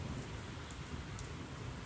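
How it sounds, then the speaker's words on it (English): Rain falls steadily outside an open door during a storm, a constant loud hiss and patter of drops with no one speaking. "And if the rain gets really hard,"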